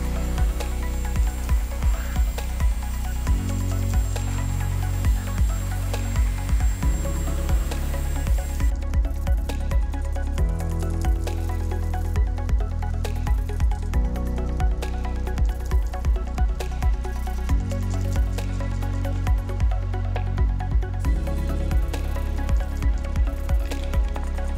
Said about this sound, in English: So I'm gonna go ahead and start rinsing everything